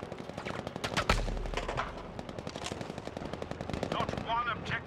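Tank cannon and machine-gun fire in Battlefield V on the Aerodrome map during a Frontlines match, a dense stream of rapid shots with a heavy boom near the start, loud and continuous.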